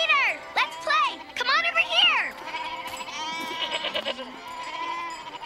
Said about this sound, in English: How did you know Peter would be coming with the goats?